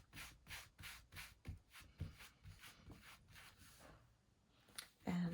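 Pan pastel is rubbed off a gel print by hand, a soft rhythmic scrubbing swish repeating close and quiet for several seconds before a brief louder bump at the end.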